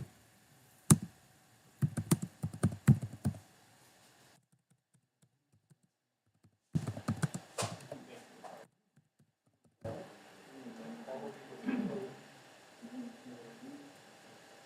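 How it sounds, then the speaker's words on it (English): Typing on a computer keyboard while editing in Blender 3D modeling software: close, crisp bursts of key clicks and taps separated by pauses, with a person speaking softly near the end. "So I can just backspace. And just type in whatever."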